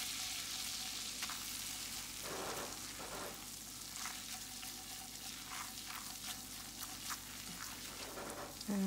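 Oatmeal flour cooks in melted butter in a pan, a soft, fairly quiet sizzle with a few louder bursts and light scraping as it is mashed and stirred; no one speaks.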